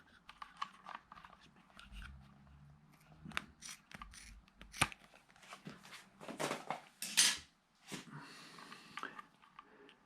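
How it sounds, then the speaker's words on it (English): Scissors snip through a rubber bicycle inner tube on a vintage mountain bike, giving a string of short, sharp crunchy cuts with handling noise between them, close up and moderately loud. "So let's take a pair of scissors."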